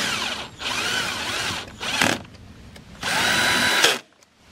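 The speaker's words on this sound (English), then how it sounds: "Reinstall the outlet, tighten the screws." A power drill tightens screws while an outdoor GFCI outlet is reinstalled, running in three loud, close bursts of whirring separated by short pauses, the last burst ending abruptly.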